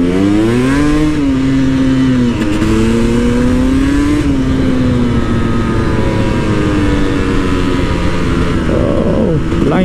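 A KTM 300 EXC two-stroke dirt bike revs hard while being ridden, its engine pitch climbing and dropping through gear changes in a loud, close, unbroken drone with no speech.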